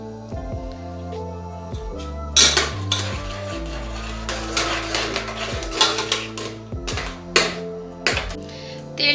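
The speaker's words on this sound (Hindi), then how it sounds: "उसके बाद हम इसमें तेल डालेंगे।" Metal pot clatter and utensil scrapes in a pressure cooker holding ground spices for Qurbani goat keema, as oil goes in; repeated sharp clinks and knocks over a low steady hum, close and fairly loud, no talk.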